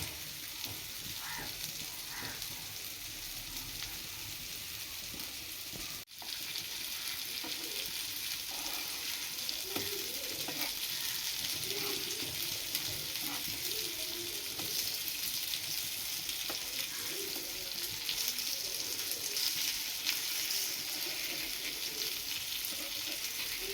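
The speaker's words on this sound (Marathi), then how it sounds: "आग पण बऱ्यापैकी चांगली पेटलेली आहे, त्यामुळे मच्छी चांगल्या पद्धतीने फ्राय होत आहे." Fish fries on a griddle set over a wood fire, a continuous crackling sizzle close by for the whole stretch, with a brief dip early on and faint bubbling spatter underneath.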